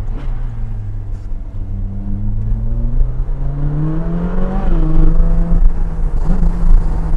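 Ferrari 458 Speciale with its naturally aspirated V8 revving hard under acceleration on a road, a loud close engine note climbing steadily in pitch with a brief dip at a gear change, then pulling again.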